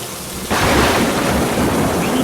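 Heavy rain pours down with a deep roll of thunder breaking in suddenly and loudly, then settling into a dense, steady downpour roar.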